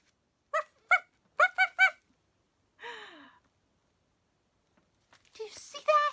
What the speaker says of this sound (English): This little dog was telling that whole story.